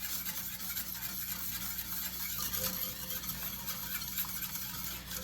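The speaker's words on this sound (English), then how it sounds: "you got to constantly whisk it" Continuous stirring and faint sizzling as a sugar mixture is whisked constantly in a pan on high heat, a steady close scraping and bubbling texture with no pauses or talk.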